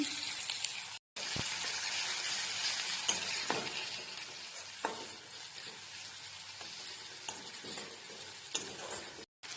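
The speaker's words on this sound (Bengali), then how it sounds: "এবার কড়াইয়ে তেল দিয়ে দিয়েছি।" Oil sizzles steadily in a kadai as the gravy for a rohu fish curry with mustard paste begins, with occasional stirring scrapes over the continuous close frying hiss.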